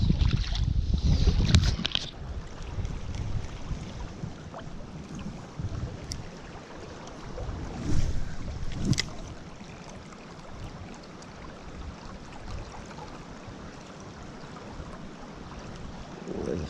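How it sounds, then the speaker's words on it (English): Wind blowing outdoors beside a Pennsylvania stream while trout fishing, gusting rumble against the microphone, strongest at the start and again around the middle, then a lighter steady bluster. "I'm just at this point dealing with the wind and stuff."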